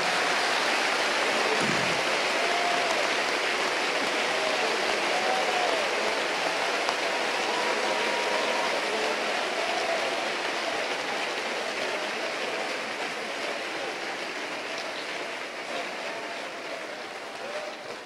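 A Pentecostal congregation at a 2014 national convention in Panama applauds in a dense, steady roar that fills the whole stretch and fades slightly toward the end.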